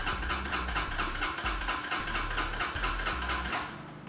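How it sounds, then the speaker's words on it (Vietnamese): A Kawasaki motorcycle engine idles steadily right after a smart-key start, a close, continuous low rumble with a faint hiss and no voices. "Coi bấm cái nữa là máy nổ nè."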